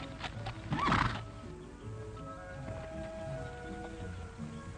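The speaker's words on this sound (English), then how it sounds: "Now, you take that white mare from Stampede while I get a rope on her." A white mare gives a loud whinny near the start, while the clip-clop of hooves carries on quietly afterward amid light outdoor background noise.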